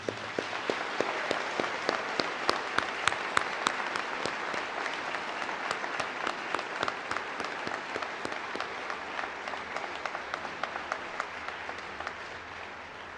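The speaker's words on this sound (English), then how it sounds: "Let's give them a hand of applause." Large crowd at a university physician assistant program graduation ceremony applauding the graduating students, dense sustained clapping filling the room, steady and fairly loud throughout with no speech over it.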